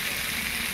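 Potato and papaya pieces fry with salt and turmeric in a pan, giving a steady close sizzle with no pause across the short moment.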